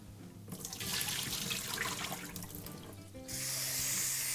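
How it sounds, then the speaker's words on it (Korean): Mugwort leaves being gently rinsed in a sink of water, with a steady run of splashing and swishing that grows to a louder, rushing tap-like flow near the end, close and loud with no talking. "이렇게 물에 담가갖고 서너 번이요 살살 서너 번만 헹궈 주겠습니다"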